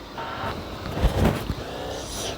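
A car drives in the video game Chicken Gun, a short burst of engine and motor noise with a few thumps near the middle, close and fairly loud with no talking.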